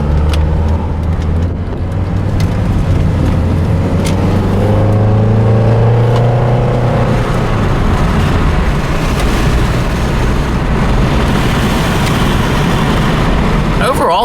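A 1994 Saturn SL2 drives through town, its engine droning loudly and steadily under heavy road and wind noise, rising briefly in pitch as it accelerates.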